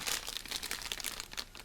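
Plastic bag crinkling and rustling as a boxed King T-rex figure is unpacked, close and fairly loud in bursts of crackly crunching with no talk.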